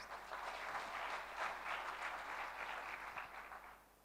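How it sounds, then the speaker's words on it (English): A crowd at a Rotary district conference opening ceremony claps steadily for about four seconds, a sustained round of applause that tapers slightly near the end. "Another round of applause."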